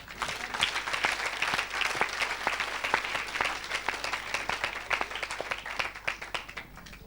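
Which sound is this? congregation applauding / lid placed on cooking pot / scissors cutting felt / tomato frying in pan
congregation applauding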